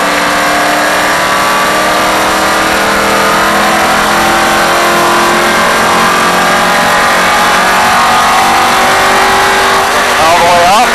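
NASCAR race car accelerating on track, engine note rising steadily and loud from inside the car, with a voice talking over it during a drive experience.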